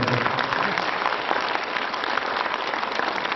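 An audience at a song concert applauds a performer with steady, full clapping that holds at an even level throughout, a thick close wall of hand claps.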